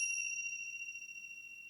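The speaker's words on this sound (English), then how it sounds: "So when I chime the bell once, that begins the meditation." A meditation bell is struck once, giving a clear, pure ding that sustains evenly and alone in a quiet room.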